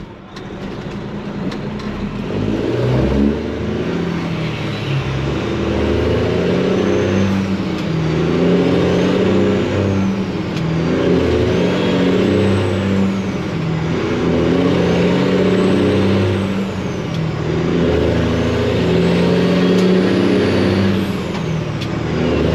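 Detroit diesel truck engine with loud pipes and turbo pulling away at quarter throttle, rising and dropping in repeated surges as it runs up through the gears, loud and close throughout.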